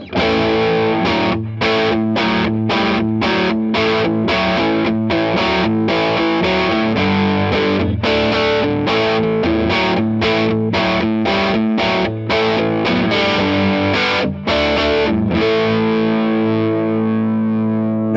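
Distorted electric guitar, a Yamaha RevStar RS420, chugs through a riff, thick and gritty, with rhythmic chords at a constant, heavily saturated loudness.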